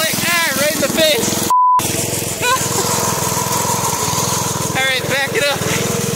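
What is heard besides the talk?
old one-wheel peel go-kart engine running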